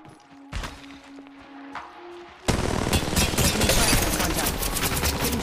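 Automatic gunfire in the mobile battle royale Apex Legends Mobile: a few isolated shots and clicks at first, then a loud, sustained burst of rapid machine-gun-style fire that continues to the end.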